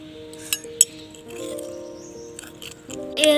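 A spoon clinks and scrapes against a glass while stirring soil and water at home, with a few sharp clinks early and soft scraping after, close and clear with no talk.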